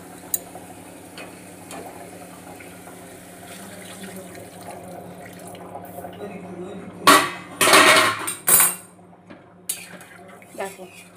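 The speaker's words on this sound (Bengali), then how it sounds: "এখানে আমি গরম জল বসিয়ে রেখেছি, এই গরম জলটা আমি এটাতে দিয়ে দিচ্ছি।" Hot water poured into a pan of fried curry masala, giving a loud hissing sizzle and splashing after quieter kitchen clatter and utensil sounds, with a voice talking at times.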